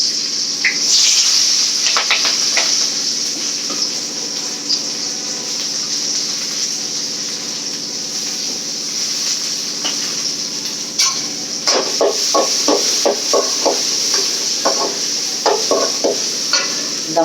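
Curry leaves, onion and garlic fry in a pan with a steady, moderately loud sizzle throughout, joined by a few scattered clatters and stirring scrapes toward the end.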